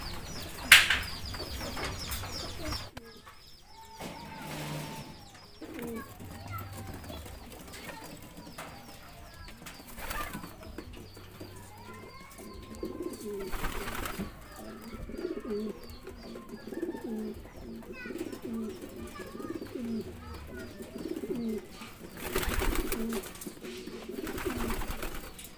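Racing pigeons are fed peanuts and coo in low, repeated rolling calls, close and fairly clear. Bursts of wing flapping break in now and then, with light clatter in between.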